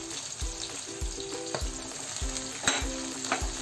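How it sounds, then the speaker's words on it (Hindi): Sliced onions with green chillies frying in oil, soft steady sizzle broken by regular spatula scrapes roughly every half second, fairly quiet and without talk. "इसे गोल्डन ब्राउन होने तक अच्छे से फ्राई होने देंगे"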